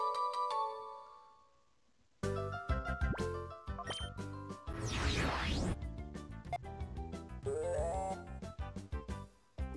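Electronic phone ringtone from the Pokemon XG video game: a short, bright melodic chime at the start, then a brief pause before busy, loud game music and effects take over.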